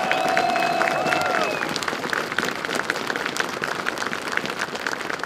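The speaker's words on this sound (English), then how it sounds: "Let's give them all a round of applause." An audience at a Second Amendment rally applauds, a dense steady wash of clapping from many hands that eases slightly but keeps going, with a brief tone at the start.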